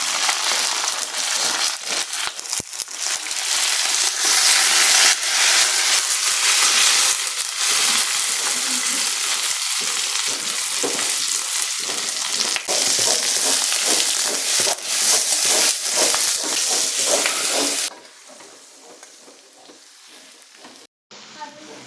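Curry leaves and pandan leaves frying in a pan, a loud, steady crackling sizzle that carries on for most of the time, then drops sharply quieter near the end.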